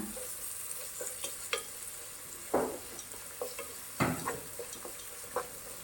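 Chopped onions and salt sauté in a pan for tomato rice, with a continuous gentle sizzle broken by a few louder scraping stirs and light clinks of the spatula.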